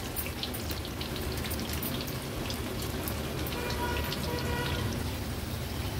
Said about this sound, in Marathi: हाय टू मीडियम फ्लेम वर ठेवून उलटपालट करून ही भजी छान तळून घेऊया